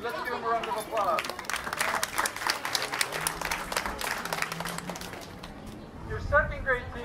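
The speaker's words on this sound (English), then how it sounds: "Let's give them a round of applause." A school back-to-school night audience applauds the first grade dual immersion teaching team with steady, dense clapping that builds and fades over several seconds, with voices speaking before and after.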